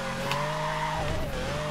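A Ferrari's engine in the racing game Forza Horizon 4 drones loudly and steadily, holding a sustained tonal note with only slight pitch wavering throughout.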